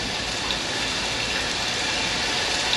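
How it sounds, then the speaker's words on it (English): Steady, even hiss of light rain falling continuously, with no pauses or other sounds over it. "So this is the light rain sound effect"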